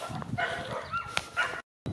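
An Istrian hound bays and barks while hunting a hare in the countryside, a series of rapid yelps and whining barks at moderate distance, broken by a brief silence.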